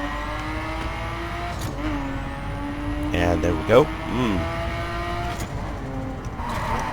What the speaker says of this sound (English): Can't believe it's an inline 6 engine.